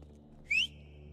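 Short whistle heard in the Roblox horror game Apeirophobia, a single bright rising tone lasting under a quarter second over a low hum of game ambience, no talking.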